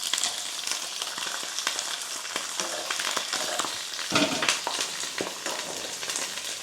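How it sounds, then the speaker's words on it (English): Chicken pieces for a Basque chicken dish sizzle and crackle steadily in a crowded frying pan, a dense, continuous hiss with small pops, close and fairly loud, with no talking. "They are sizzling."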